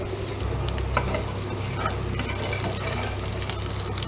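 Nigella seeds dropped into hot mustard oil give a dense, continuous sizzle with a low hum beneath, steady and close throughout, with occasional faint utensil ticks.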